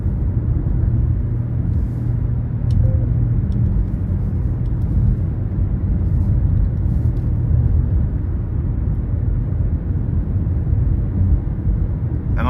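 A 2023 Nissan Rogue with a turbocharged 3-cylinder engine and CVT drives along, heard from inside as a steady low rumble of engine and road noise, continuous and without talk.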